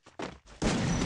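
Gunfire in the Free Fire video game: two short sharp shots followed by a heavier, sustained burst, loud and close with no voices.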